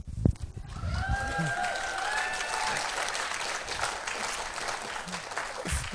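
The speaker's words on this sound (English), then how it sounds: "And we gave them an enthusiastic round of applause." Audience at a community college communication awards ceremony applauding for the parents, a fairly quiet, steady round of clapping with some faint voices mixed in.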